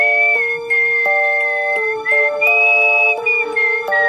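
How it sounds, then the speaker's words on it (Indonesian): Person whistling a melodic tune at night, clear and close, with sustained notes that shift pitch over light background music. "Alah bohong, nih gua siul."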